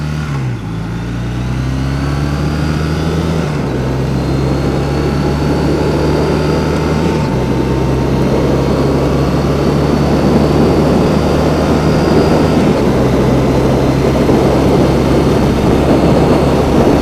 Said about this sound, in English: Love to blip the throttle on this thing, you know? It's just happy sounding motor.